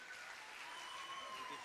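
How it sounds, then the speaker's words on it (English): Sustained applause from a crowd at an American Indian heritage celebration, a faint, even wash of clapping with a high ringing tone running through it. "a big round of applause for them as well"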